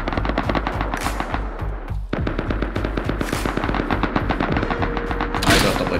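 Gunfire in the survival game Rust: rapid, dense automatic bursts crackling almost nonstop, loud and close, with a brief pause partway through before the shooting resumes.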